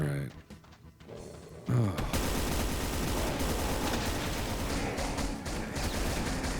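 Dense, continuous rapid gunfire fills a video game after a softer opening, loud and steady for several seconds with heavy thuds under it, while someone talks over it.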